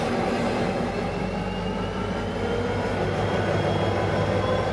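A V/Line N class diesel locomotive pulls its train away from South Geelong station, a steady rumbling engine drone with rolling wheel and carriage noise that holds even and fairly close throughout, with no voices.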